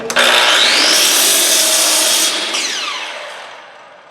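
A mitre saw cuts through wood in one loud, close whine that starts abruptly and then winds down as the blade slows.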